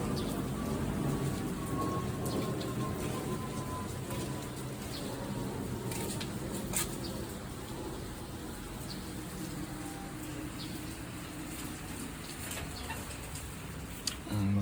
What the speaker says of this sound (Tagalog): Yun na yung ibon.